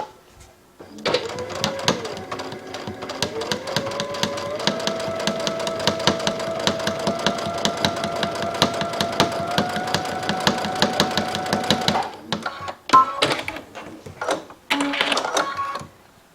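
A domestic sewing machine runs a continuous seam for about eleven seconds, its rapid steady needle clatter with a rising motor whine, then stops and restarts in short bursts; no talking.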